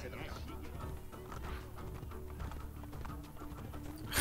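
Horse hooves clip-clop steadily through a crowded street in Assassin's Creed Brotherhood, with game ambience and a voice talking over the rhythmic footfalls.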